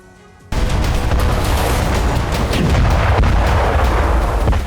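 Artillery fire in the Russia-Ukraine war bursts in after a short quiet moment as a loud, sustained roar of blasts and rumbling booms, continuing without talk.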